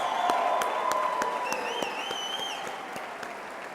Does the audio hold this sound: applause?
yes